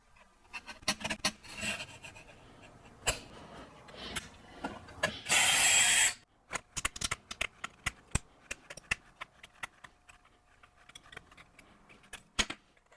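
A metal part is trimmed before welding with a close run of scraping and rasping strokes and sharp clicks, a brief loud hissing burst in the middle, then scattered ticks and taps, with no talking.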